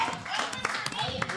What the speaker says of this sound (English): When somebody claps, everybody claps.